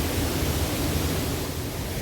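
Pecker Falls, a waterfall near Ingleton, pouring steadily with a dense, even broadband rush close to the microphone and no voices.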